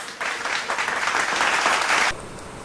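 Applause sound effect: a burst of crowd clapping rises quickly, holds steady and loud for about two seconds, then cuts off abruptly into quiet background.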